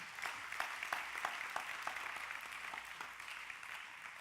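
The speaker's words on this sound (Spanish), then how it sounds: "Dale un fuerte aplauso a Dios." A church congregation applauds at a Spanish-language service, a steady patter of many hands clapping with sharper individual claps standing out. The sound is fairly faint and distant and runs on without speech.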